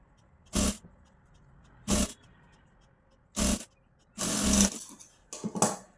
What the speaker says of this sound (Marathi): आता इथे 1/2 इंचावर आपल्याला शिलाई मारायची आहे.